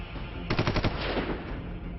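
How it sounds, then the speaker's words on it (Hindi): Machine gun fire during an NSG commando operation against terrorists holding a building: a rapid burst of about six loud shots rattles off, followed by ringing echoes and a steady background roar. "इसके बाद गोलियों की गड़गड़ाहट से जमीन और आसमान"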